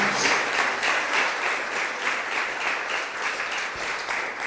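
A church congregation applauds loudly for Jesus during a worship service, a dense, continuous wash of clapping that holds steady from start to finish.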